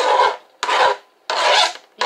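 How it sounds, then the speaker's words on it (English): Chopped onion is scraped off a board into a crock pot in four quick, close rasping strokes with short gaps between them, no talking. "I'm going to scrape"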